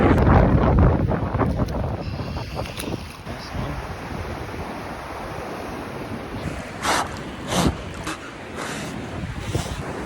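Strong winter wind batters the microphone by cold open water, heavy rumbling buffets loudest at the start, with gusty roars and surf-like wash throughout.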